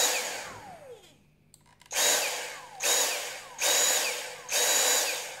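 A Dyson V6 cordless stick vacuum whirs up after its battery is slid in, a descending spin-down tone first, then four loud, close bursts of motor whine, each lasting under a second with short gaps between.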